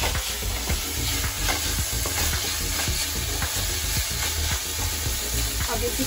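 Schezwan paneer noodle sauces sizzle in a pan over high flame while a spoon stirs and scrapes through them in quick, repeated strokes, close and continuous.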